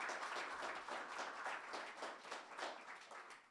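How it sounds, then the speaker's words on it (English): An audience at an art exhibition dedication event applauds continuously, a dense wash of many hands clapping at a moderate distance, fairly quiet and steady throughout. "give them all a big round of applause"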